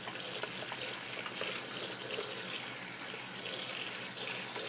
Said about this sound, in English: Then I'm gonna add water in here and mix it up